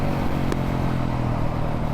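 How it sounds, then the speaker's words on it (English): A single-cylinder supermoto motorcycle, a Ducati Hypermotard 698 Mono or KTM 690 SMCR, drones its exhaust while being ridden, a steady, close, moderately loud thrum with a brief click partway through. "It's not too loud, this exhaust, it's alright."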